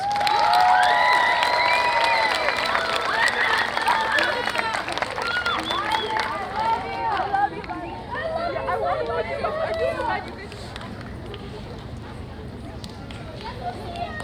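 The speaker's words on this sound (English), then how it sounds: "One more round of applause for them, please" Applause from a school concert audience for beginning band and beginning strings students, fairly loud at first with crowd chatter and voices mixed in, tapering into murmuring hubbub.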